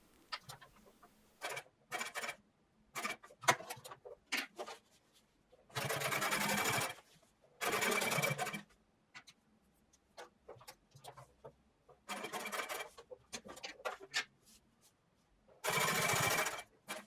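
A sewing machine joins the front and back seams of a pair of jeans in short bursts of stitching, separated by quiet gaps and faint handling clicks.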